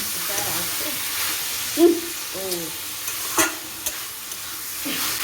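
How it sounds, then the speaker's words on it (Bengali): About a quarter kilo of chicken mince being stirred and browned in a pan, a soft continuous sizzle with spatula scrapes and a few sharp clinks, close and moderately loud with faint voice-like tones in between. "এটাকে নাড়াচাড়া করে আমি কষিয়ে নিলাম"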